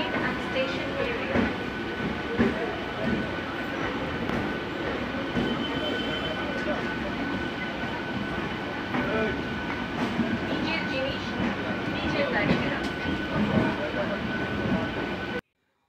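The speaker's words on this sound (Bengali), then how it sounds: "লোকাল ট্রেন ধরে আমরা আমাদের বাড়ির উদ্দেশ্যে এগিয়ে চলেছি" Interior of a moving local train, a steady loud rumble of wheels and carriage with rattling and faint clicking, continuous throughout with a voice speaking over it.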